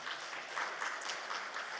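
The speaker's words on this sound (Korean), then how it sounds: "예, 박수 한번 주세요." Congregation in a church breaking into steady, dense applause, many hands clapping together at close range with no talk over it.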